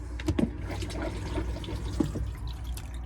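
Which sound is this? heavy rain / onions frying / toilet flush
toilet flush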